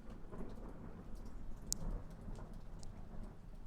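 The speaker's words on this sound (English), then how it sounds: "Yeah, I got a little thunder here, not bad." Rain falls steadily in the desert during a cool, breezy storm, a continuous low hiss and rumble with a brief crack of distant thunder partway through, and no talking.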